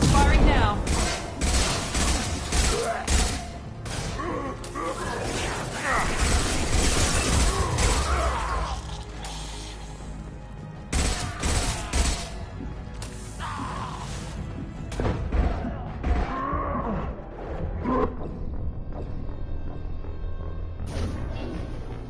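Gunfire fills a firefight in Mass Effect: Legendary Edition, with dense bursts of shots, crashes and impacts for over twenty seconds, thinning briefly in the middle before picking up again, and voices can be heard among the shooting.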